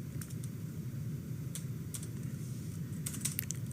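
Soft, quick keystrokes on a computer keyboard, light clicking in brief clusters over a quiet room hum, with a few sharper taps near the end.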